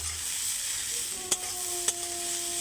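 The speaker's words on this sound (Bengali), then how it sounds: "দেখতেই পাচ্ছ ভাজছি খুব ভালো করে" A fish head fries in a pan, a steady close sizzle hissing throughout with two brief clinks of a utensil against the pan and no talk.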